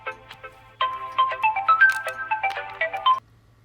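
An incoming call sets off a mobile phone ringtone: a bright melodic jingle that starts after a few soft notes and plays for about two and a half seconds at moderate volume before stopping.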